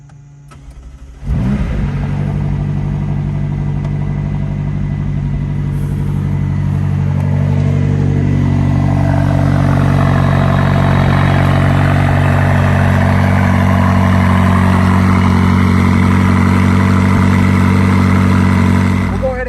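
A 2019 McLaren 570S supercar fires up with a sharp starter burst about a second in, then settles into a loud, steady, close-up idle that swells slightly and holds.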